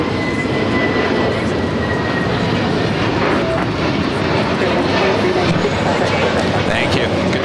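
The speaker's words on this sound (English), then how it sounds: "It's a brand new Dreamliner delivered in December of" A brand new Boeing 787 Dreamliner at Los Angeles airport produces a loud, constant broadband jet roar with no letup across the whole stretch, voices faintly mixed in beneath it.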